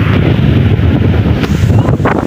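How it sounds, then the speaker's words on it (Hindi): Strong stormy wind buffets the microphone at a doorway in rain, with a constant low rumble and gusting rush, loud and close, with no voices. "ये देखिए बहुत तेज़ हवा चल रही है, बहुत बहुत तेज़।"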